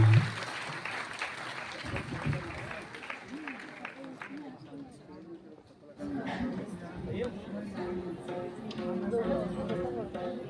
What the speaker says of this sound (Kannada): ಎಲ್ಲರೂ ಜೋರಾದ ಒಂದು ಜೋರಾದ ಒಂದು ಚಪ್ಪಾಳೆ ಅವರಿಗೆ ಬರಲಿ ಅಂತ ಕೇಳ್ಕೊಳ್ತೀನಿ